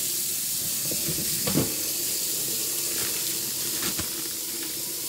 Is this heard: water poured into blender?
yes